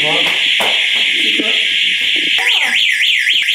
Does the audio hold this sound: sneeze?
no